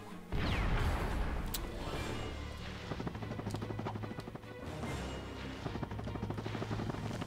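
A loud, booming spaceship self-destruct explosion in the video game Ratchet & Clank bursts in, followed by sustained rumbling destruction with crackling debris and metallic clatter that churns on steadily.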